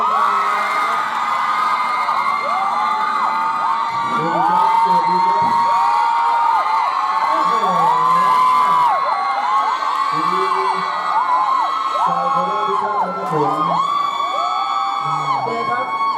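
A concert crowd at The Royal Concert in Terminal 21, Korat, cheers and whoops loudly to welcome a singer on stage, with shouts and yells rising over sustained music throughout.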